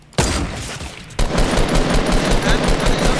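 Gunfire in a 50v50 Fortnite match, rapid bursts of shots starting abruptly and continuing in dense, loud volleys after a short lull.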